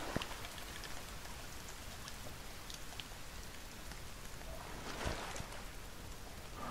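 Steady rainfall in the survival video game The Forest, a continuous soft hiss of drops with occasional sharper taps, fairly quiet and with no voices.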